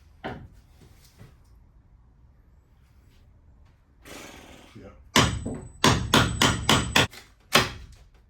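Hammer blows and tool work knocking old screws out of a boat's hatch board, a run of loud, sharp, close impacts in an uneven rhythm following quieter scraping, with a brief steady whine among the strikes.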